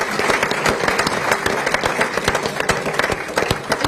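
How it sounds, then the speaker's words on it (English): A crowd at a football club fans forum applauds steadily, many hands clapping at once in a dense, continuous patter that stays loud throughout. "a round of applause for them."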